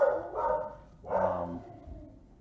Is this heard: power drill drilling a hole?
no